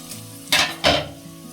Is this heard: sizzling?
yes